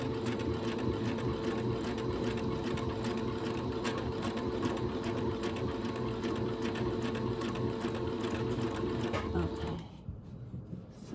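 Sewing machine stitching fabric while upcycling a man's shirt, a steady rapid mechanical whirr running for about ten seconds before cutting off, followed by quiet handling noise and a brief spoken word.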